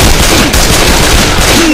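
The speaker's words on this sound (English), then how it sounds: "I'm shooting at you" Rapid video game gunfire from Blood Tracks, dense overlapping bursts that sound like machine-gun fire, very loud and continuous for under two seconds.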